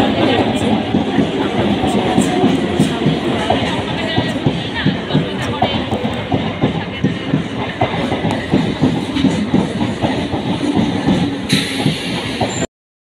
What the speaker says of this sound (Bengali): স্টেশনে বসে ট্রেনের পর ট্রেন দেখছি আর দেখো একটা থ্রু ট্রেন যাবে